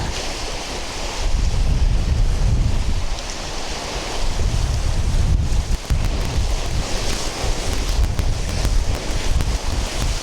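Strong wind gusts batter the microphone on a beach while waves surge and break steadily underneath, loud and continuous throughout.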